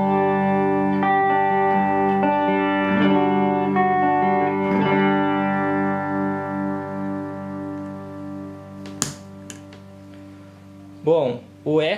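A clean electric guitar played through a Mooer Ana Echo delay pedal rings out in sustained chords whose repeats trail and fade, followed by a few short plucked notes and muted strums near the end.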